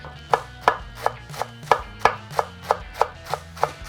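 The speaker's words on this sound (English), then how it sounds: "this amazing artisan romaine. We're gonna shave this really fine" A knife finely shaves artisan romaine lettuce on a cutting board, ten crisp, evenly spaced chops close and clear, with no voices.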